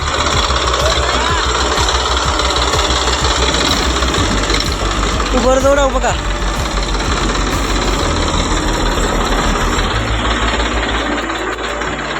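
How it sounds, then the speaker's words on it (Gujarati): A tractor engine runs steadily throughout with a low, knocking chug, while people talk over it and a brief voice rises near the middle. "ટ્રેક્ટર આપણું ચાલુ થઈ ગયું છે"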